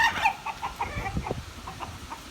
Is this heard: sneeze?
no